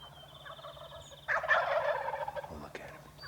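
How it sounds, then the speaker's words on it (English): Wild turkeys gobbling on the roost in the early morning. A loud, rattling gobble bursts out and fades, with a faint bird call whistling before it and a steady low hum underneath. "What a gobbling morning it was."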